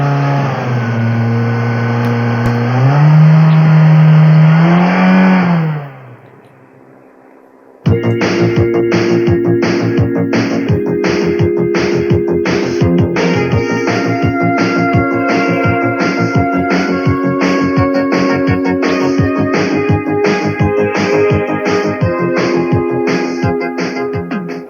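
A car engine on a TCCS system during an ignition timing check. It holds a raised, rising note, then drops abruptly to a low idle. It restarts at a steady, even speed with a fast rhythmic ticking. No voices.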